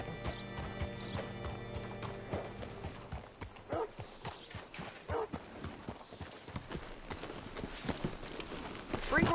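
Horse hooves clip-clop unevenly with a brief whinny in the Red Dead Redemption video game, close and moderately loud over a low ambient bed, with faint mechanical clatter.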